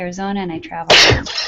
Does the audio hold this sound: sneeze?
yes